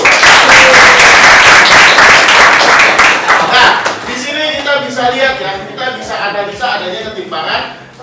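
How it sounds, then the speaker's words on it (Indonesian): Students in a classroom break into loud applause that lasts about four seconds, then fades into rhythmic scattered clapping under a teacher's speech. "Tepuk tangan buat Rizky."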